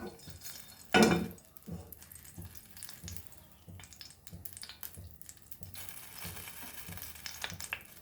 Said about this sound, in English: I've taken 1 teaspoon of oil and I'm adding few curry leaves to this